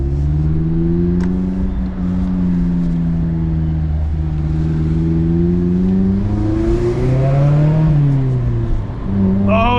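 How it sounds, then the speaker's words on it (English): A 2024 Mazda MX-5 Miata ND3 Grand Touring's exhaust on a damp Gingerman race track, heard from the driver's seat: a steady, loud engine drone rising and falling in pitch through acceleration and shifts, with no talking. "I love this exhaust."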